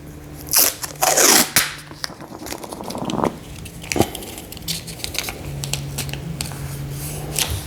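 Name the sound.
taping paper template for Samsung Frame TV installation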